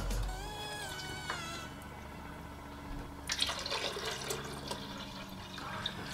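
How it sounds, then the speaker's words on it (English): Dandelion wine splashes and gurgles as it pours into a bucket, with a brief trickle early on followed by a steady splashing pour. "let's pour that back into the bucket"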